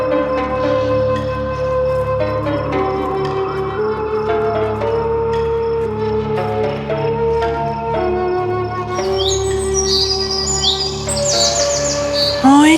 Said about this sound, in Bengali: ওখানে পাখির ছানাদের শব্দ পাওয়া যাচ্ছে